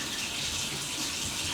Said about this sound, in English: into our starter we're going to add the water